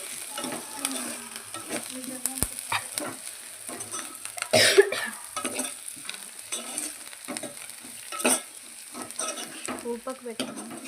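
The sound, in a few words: person coughing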